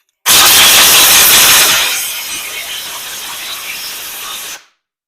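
WD-40 sprays onto the parts of a disassembled 42mm Mikuni carburetor, a loud close hiss of about four seconds that begins harsh and full, then thins to a softer steady spray before stopping abruptly.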